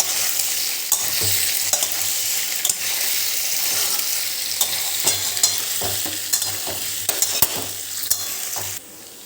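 Chopped gram-flour dough is stirred into spluttering mustard seeds in a hot oiled pan, giving a loud continuous sizzle with a spoon scraping and knocking rhythmically against the pan.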